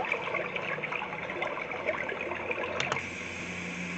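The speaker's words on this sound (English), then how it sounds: "brook," Brook setting on a Homedics alarm clock sound machine, giving a continuous low-level trickling, burbling water noise with a faint brighter splash late on, steady and quiet throughout with no talking.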